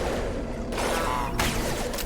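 Sustained rapid gunfire in the sci-fi shooter Mass Effect 2, dense, loud and continuous bursts of weapon fire layered with mechanical combat noise and no pauses.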